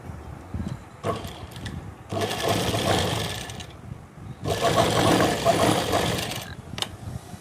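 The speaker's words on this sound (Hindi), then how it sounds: "उसके बाद हमें ये आसन पर ये सिलाई लगा लेनी है।" A sewing machine stitches salwar fabric in two sustained, rattling runs, each lasting about two seconds, separated by brief handling clicks and near silence, close and fairly loud.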